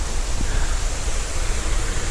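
Steady broadband rush of a small waterfall pouring out from underneath a road at Tom's Run in Cook Forest State Park, loud and continuous throughout with no pauses or talk.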